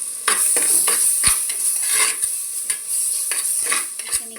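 Mustard-seed tempering (oggarane) fries in hot oil in a pan with onion, giving a steady bright sizzle broken by scraping stirs and light clinks of a spoon against the metal.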